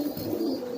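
A pigeon gives a short, soft, low coo close by, a brief throaty murmur heard alone without any talking.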